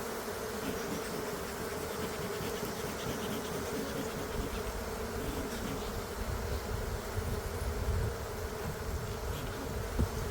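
Honeybees buzz steadily around an opened hive during a February hive check, a dense, continuous drone of many insects close by, loud and unbroken with no talk.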